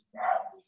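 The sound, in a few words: dog barking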